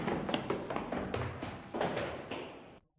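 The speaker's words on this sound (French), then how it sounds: "Seulement des pas qui s'éloignaient dans les escaliers." Footsteps going away down a staircase, a quick run of soft taps and thuds that grow slightly fainter before cutting off, with no talking.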